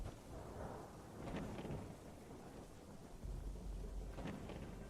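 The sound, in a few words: rain and thunder in video game Fallout London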